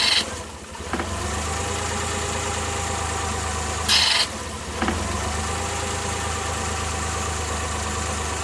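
A Suzuki F6A engine in a Multicab idling steadily during a PCV test, a constant low mechanical hum with a couple of brief louder bursts partway through and no talking.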